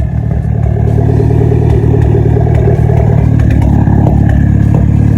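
A Mitsubishi Evo X with an AMS downpipe and midpipe and an ETS V3 axle-back exhaust runs close by, a loud, throaty engine note with a gritty, rumbling idle and slight rev swells throughout.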